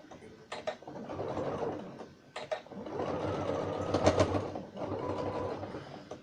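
A sewing machine stitches the lining of a Christmas stocking in close, loud, steady runs of rapid mechanical whirring, broken by brief pauses between bursts.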